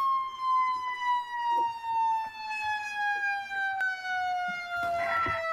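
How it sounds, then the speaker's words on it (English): A fire truck siren in the Roblox game ER:LC wails in a long, steadily falling electronic tone, loud and clear, with faint background clicks and a brief burst of noise near the end. "Siren and lights."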